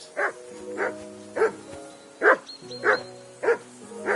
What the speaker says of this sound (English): I assume you can hear that damn dog of yours barking.